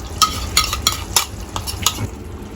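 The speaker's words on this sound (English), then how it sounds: "I'm going to first stir this in." Rajasthani laal maas mutton stirred in a pan over low heat: about six evenly spaced scraping strokes of a spoon against the pan, close and fairly loud over a low sizzle.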